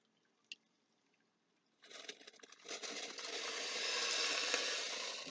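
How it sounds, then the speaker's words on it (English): Water pours steadily into a pot of tomato neck bone stew, starting with a sudden splash and building into a continuous, fairly close rushing flow after a brief quiet moment and a small clink. "We'll pour a little bit of water inside of it."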